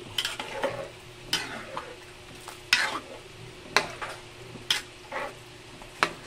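Porridge stirred in a pot of hot water, a series of soft scraping sweeps at an uneven rhythm, close and fairly quiet, with a faint steady background hiss.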